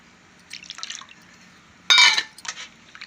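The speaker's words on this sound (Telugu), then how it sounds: "చక్కగా మటన్ అంతా ఒకసారి కడిగేసుకుంటే మనకి చక్కగా బాగుంటుంది అనమాట" Pieces of mutton are rinsed in a bowl of water, making soft drips and a burst of close splashing, then a few lighter sloshes, with no talk.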